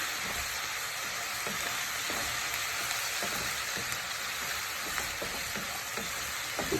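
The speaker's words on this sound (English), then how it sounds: "So let me just cook this down a little bit." Chicken balti base sizzling and frying steadily in a pan, a continuous bright hiss with occasional crackles and faint stirring scrapes, close and fairly loud, no talking.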